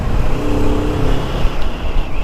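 A Kawasaki Vulcan S Cafe, a 650cc cruiser motorcycle, accelerating hard toward highway speed, its loud engine drone climbing under heavy wind rush, heard close from the rider's position without talk.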